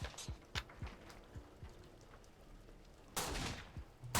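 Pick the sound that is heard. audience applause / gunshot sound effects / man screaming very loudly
gunshot sound effects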